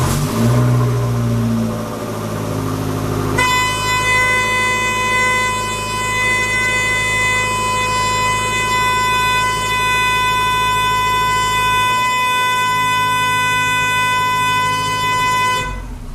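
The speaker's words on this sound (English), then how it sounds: "wasn't expecting the horn to blow" A car horn blares unexpectedly and holds for about twelve seconds while a car with a swapped Abarth engine is cranked, the loud steady tone starting abruptly over engine noise and then cutting off.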